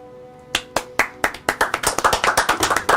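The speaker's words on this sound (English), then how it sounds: "You're applauding yourself." A single person's hands clapping, starting with a few spaced claps and speeding into quick, steady applause, close and loud.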